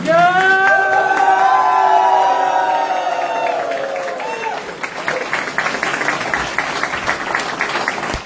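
Audience rising for a standing ovation at a recognition ceremony honouring two new office-bearers: loud, dense applause with whoops and cheering swells at once, then settles into sustained steady clapping over the full stretch, with some shouting in the crowd.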